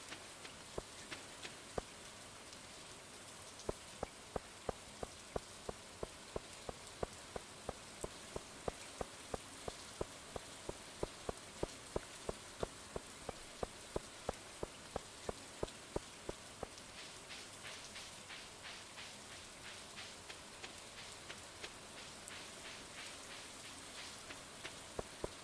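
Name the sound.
rain falling in the video game Stardew Valley Expanded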